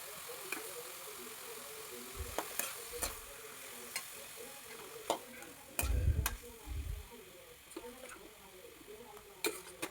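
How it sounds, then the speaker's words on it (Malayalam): Grated ash gourd frying in oil for a Kerala-style curry, a quiet sizzle broken by intermittent spatula taps and scrapes, a few louder thumps, with faint speech in the background. "ഈ തിരുമ്മി വെച്ചിരിക്കുന്ന കുമ്പളങ്ങ അതിലേക്കിട്ട് എല്ലാം ഒന്ന് 2-3 മിനിറ്റ് നേരത്തേക്കൊന്ന് ഫ്രൈ ചെയ്തെടുക്കണം"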